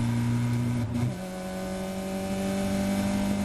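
A Caterham race car racing on the Silverstone Grand Prix circuit, its engine a steady loud drone with a sharp shift in pitch about a second in, then carrying on evenly.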